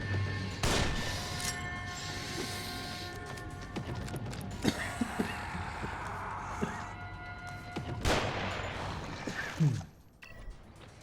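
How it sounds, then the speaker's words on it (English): Long rifle shots ring out in the video game The Evil Within, with a few sharp, loud blasts spaced seconds apart over a dark ambient background and scattered impact noises. "So now I don't have a shotgun, so I'm using a long rifle."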